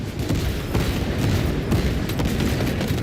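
Grenade blasts and gunfire in a Warhammer-style shooter game with a Techmarine class, dense low booms and rumbling explosions running continuously at close range with no talk over them.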